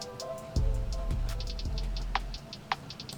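Gritty snare drum sample in Soundtrap, played within a short drum loop: punchy low thumps and repeated bright hits with scattered sharp snaps, moderately loud with no voices.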